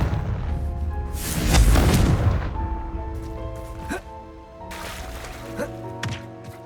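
A Confringo spell blast in Hogwarts Legacy lands as a heavy, booming explosion that swells and fades, followed by softer scattered magical hits and crackles.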